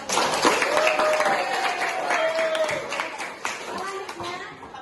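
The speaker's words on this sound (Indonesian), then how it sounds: "Beri aplaus untuk kita." A classroom of students applauding, steady clapping throughout with a voice speaking over it and some children's voices mixed in.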